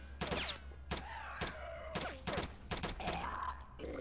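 Gunfire from the video game Return to Castle Wolfenstein: a string of sharp, loud shots at irregular intervals, roughly six or seven bursts over four seconds over a steady low hum, with a faint groan between them.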